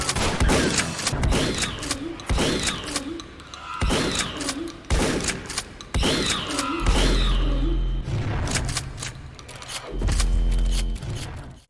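Shotgun blasts and pump actions in a free retro first-person shooter video game, a steady series of loud booming shots roughly every second and a half with mechanical clatter between them, alone without talk.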